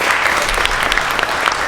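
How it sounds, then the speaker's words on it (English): An indoor storytelling audience claps steadily, a dense, even burst of applause up close with no talk over it. "Can we have another round of applause?"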